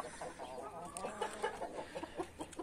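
A hen on a farm clucks repeatedly in short, fairly quiet bursts with a steady, chattering rhythm.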